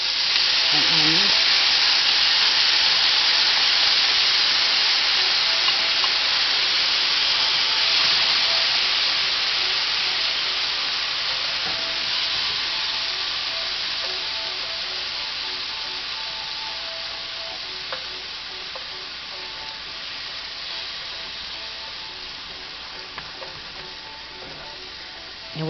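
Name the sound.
peppers and onions sizzling in a pan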